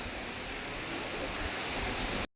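Steady broadband wash of sea waves on the Konkan coast of Maharashtra, a continuous surf roar heard alone with no clear individual breaks, as if from close by.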